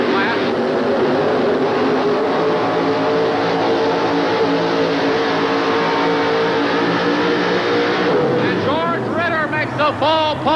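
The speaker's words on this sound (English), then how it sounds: "George Ritter with the Chevrolet. Plenty of horsepower" A Chevrolet pulling truck roars at an indoor truck pull, a loud, sustained engine drone that shifts near the end, with an announcer talking over it.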